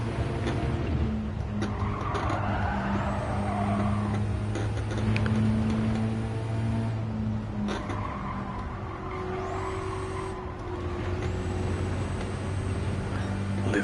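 Racing car engines drone steadily in Gran Turismo 7 while tyres squeal and skid through corners, with engine pitch rising and falling through the lap; a voice talks faintly underneath.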